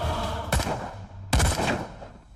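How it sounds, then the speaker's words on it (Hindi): Two sharp gunshots from a film ring out about a second apart, loud and reverberant, with no voices. "अंदर फायरिंग हो रही है सर"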